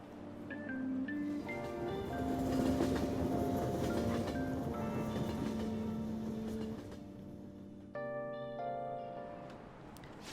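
Steady rumbling train-ride ambience from the video game Persona 5 Royal, a continuous rolling hum with tonal musical layers on top, fairly loud and unbroken throughout, briefly shifting near the end.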